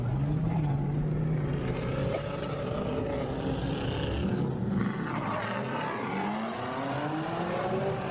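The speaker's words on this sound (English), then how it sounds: "Oh, that's that Supra." A Toyota Supra engine roars at a car meet, a sustained loud revving drone rising and falling in pitch amid crowd noise, heard from nearby outdoors.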